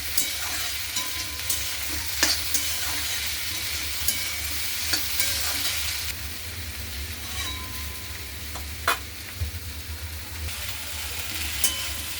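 Okra sautéing in a pan with a freshly ground spice paste, a steady broadband sizzle close by with occasional spatula scrapes and clicks, continuous throughout without talk.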